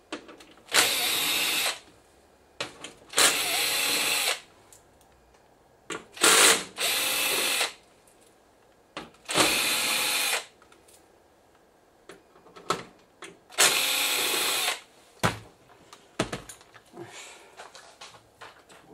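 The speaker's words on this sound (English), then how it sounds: "we have one two three four five, six screws to remove." A power screwdriver whirs in six loud, close bursts of one to two seconds each, separated by quiet gaps and small clicks, as it removes screws from the back of a Samsung LCD TV.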